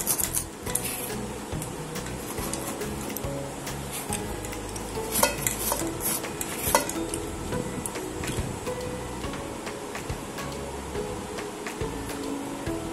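Rava besan ladoo mixture stirred in a pan, a quiet run of scraping with irregular ticks and clinks of a spoon against metal, close and steady for several seconds.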